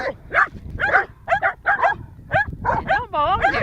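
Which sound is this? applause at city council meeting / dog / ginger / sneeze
dog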